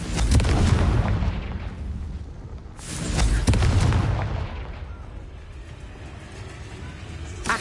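Booming Confringo fire spells from the Hogwarts Legacy video game, two loud blasts about three seconds apart, each followed by a rumbling low tail that fades before a smaller burst at the end.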